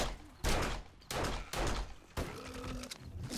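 Gunfire bursts out in a 7 Days To Die co-op session in three or four loud, dense rapid bursts separated by short pauses, with a clunk near the end.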